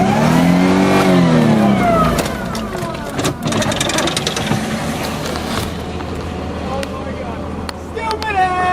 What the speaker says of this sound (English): I want to see this car go that way